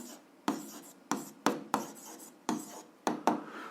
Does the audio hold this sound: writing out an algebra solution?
yes